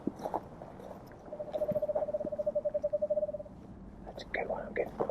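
An owl perched in a large cedar tree gives a long, rapid series of pulsed low hoots, close and clear, with faint rustling and brief soft sounds around it.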